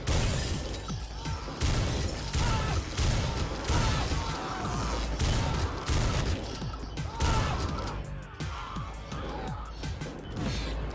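Repeated gunshots in the brutal video game Butcher, loud sharp bursts scattered through a chaotic stretch with crashing impacts, with a voice briefly heard among them.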